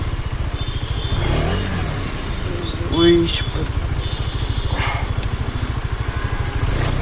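KTM Duke 250 motorcycle stuck in water, its engine idling with a fast pulsing thrum and a couple of brief revs midway, close by, with a voice talking over it.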